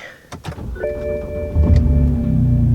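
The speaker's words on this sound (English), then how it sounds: "let's see the cold start sound" A BMW engine cold-starts: a brief whirring crank with a chime, then the engine catches and settles into a loud, rough idle.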